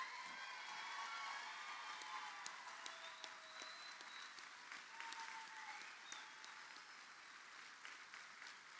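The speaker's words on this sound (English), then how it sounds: "How about one more round of applause for Class 102?" Audience applause at a correctional deputy academy graduation ceremony for Class 102: steady, sustained clapping from a crowd, heard faint and distant throughout with no talking.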